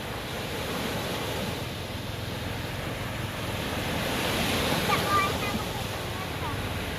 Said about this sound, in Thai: โอ้ คลื่นใหญ่มาแล้ว